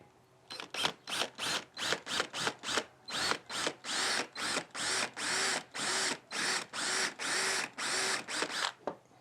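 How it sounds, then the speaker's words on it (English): A power drill fitted with a 1/4-inch bit bores into PVC in about twenty short, loud bursts, each a whining run of the motor with brief pauses between, steady and close. "So I think this is a 1/4-inch drill bit."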